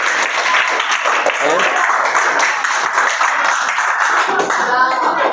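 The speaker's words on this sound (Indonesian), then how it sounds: "saya kasih aplaus kelompok 6" A classroom of students claps for presenting group 6 in a religious education lesson, a sustained burst of many hands with children's voices mixed in underneath.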